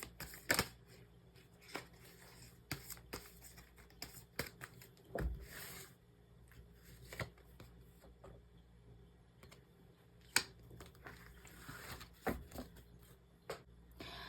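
Tarot angel cards being shuffled and drawn, soft quick riffles and taps in scattered bursts with crisp card snaps, close and quiet, no talking.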